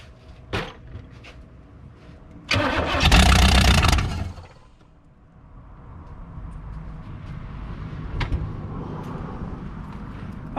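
A 1991 Firebird Trans Am engine, converted from TPI to a carburetor and running with a fuel leak, cranks and briefly catches in a loud burst about two seconds long. A lower rumble and scattered knocks follow, with no talking.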